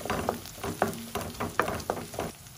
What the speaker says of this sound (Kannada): ನೋಡಿ, ಈರುಳ್ಳಿ ಸ್ವಲ್ಪ ಮಟ್ಟಿಗೆ ಫ್ರೈ ಆಗಿದೆ.